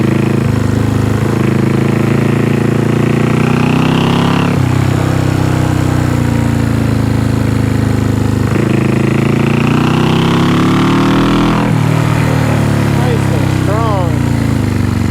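A 1974 Honda CB360 motorcycle engine runs loudly up close, revving up and dropping back in repeated swells every few seconds, with rising pitch on each rev.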